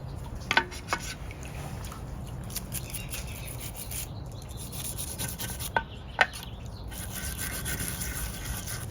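Wire brush scrubbing caked grime off garden pruners: a steady, raspy scraping texture punctuated by a few sharp metallic clicks, close and moderately loud, with no voices.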